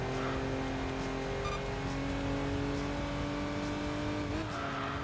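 A Porsche V8 race car engine revs in the game Enthusia Professional Racing, a steady loud droning whine that holds its pitch before dipping briefly near the end, with no voices heard.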